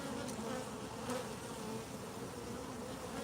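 Steady, dense buzzing of many bees around an opened hive during honey extraction, close and continuous throughout, with no voices.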